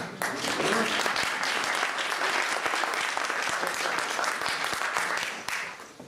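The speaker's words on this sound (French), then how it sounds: "Et vous pouvez applaudir si vous voulez." Audience applause at a physics conference on the Brout-Englert-Higgs boson, with full, steady clapping and distinct individual claps audible throughout, tapering slightly near the end.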